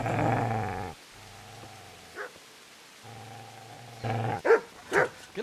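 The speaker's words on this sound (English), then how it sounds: "Get away, you mutt!" A dog growls and barks at a man, with low sustained growls in two long stretches broken by a few short, sharper barks or yelps toward the end, fairly close and not very loud.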